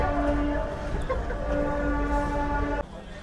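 The 17230 Sabari Express with LHB coaches rolls out of Secunderabad toward Tirupati, a loud, steady rumble of wheels and carriages carrying a sustained horn-like tone that cuts off near the end.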